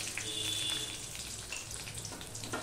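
Panch phoron spices and a bay leaf sizzle steadily in hot oil for a vegetarian cabbage dish, a close, continuous frying crackle with no voices.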